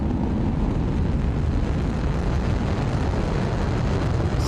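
Rocket sound effect on a stream, a loud continuous roaring rush of thrust holding steady throughout, no voices.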